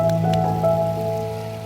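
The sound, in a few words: heavy rain falling on flooded village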